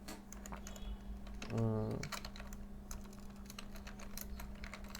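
Rapid clicking of keys on a computer keyboard while an SMS message is typed, steady and fairly faint, with a brief hum and a low murmur in the background.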